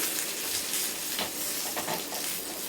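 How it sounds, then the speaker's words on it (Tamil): Prawns fry in hot oil in a pan, a thick, loud sizzling hiss up close, with soft stirring scrapes and a few bursts of crackle partway through, and no speech. "இறா எல்லாத்தையும் போட்டாச்சு கொஞ்சம் கொஞ்சமாக போட்டு வறுத்துக்கிடலாம்"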